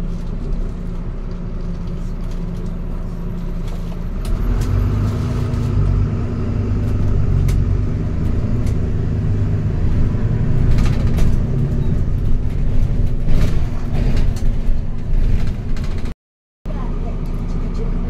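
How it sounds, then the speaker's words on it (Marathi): Riding inside a city bus: a deep, steady engine rumble with rattles and road noise throughout, and faint murmurs of talk, briefly cutting out near the end. "बस आली आहे, तर आता बसमध्ये बसतो पटकन"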